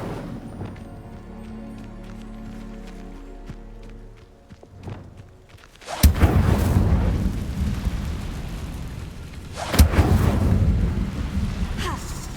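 An Incendio fire spell cast in the Hogwarts Legacy video game: two loud, roaring fiery bursts, the second about four seconds after the first, break in after a quieter stretch of background game music.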